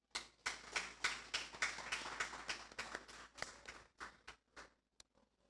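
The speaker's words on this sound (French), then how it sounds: "je vous demande d'applaudir" An audience applauds as a speaker is welcomed to the stage, with a brisk run of claps that gradually thins out into a few scattered hand claps before stopping.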